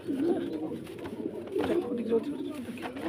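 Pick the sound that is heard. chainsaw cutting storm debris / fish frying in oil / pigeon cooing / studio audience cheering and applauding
pigeon cooing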